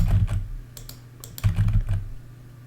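Rapid typing on a computer keyboard, with clustered clicky keystrokes in short bursts and brief pauses between them, close and fairly loud.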